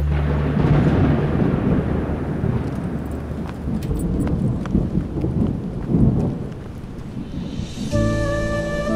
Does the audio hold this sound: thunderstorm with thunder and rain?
yes